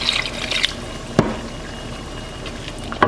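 Water pours steadily into a cooking pot while making Njansang fish stew, with a soft liquid rush and a few sharp clinks.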